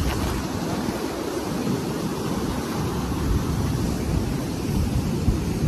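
Sea waves wash steadily onto Bournemouth beach, a continuous broad rushing surf mixed with wind noise, moderately loud and unbroken with no voices.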